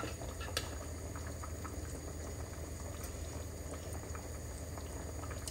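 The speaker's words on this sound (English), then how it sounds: "It's all hot and bubbling." Quiet, steady bubbling of a thick lamb curry sauce simmering hot from the oven, soft continuous pops with no talking.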